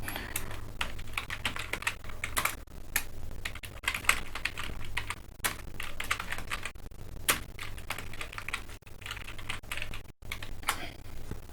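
A computer keyboard clatters with steady bursts of fast typing, crisp keystrokes close up, broken by short pauses, over a low constant hum and with no speech.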